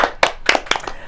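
A short burst of clapping from a small audience at a youth talk-show event, with a few distinct claps and scattered hand strikes over about a second, fairly close.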